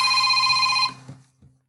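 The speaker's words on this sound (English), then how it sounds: "I'm just so popular on my phone, won't stop ringing." A phone rings with a bright electronic trill that holds steady for under a second, then cuts off, leaving a few faint low knocks after it.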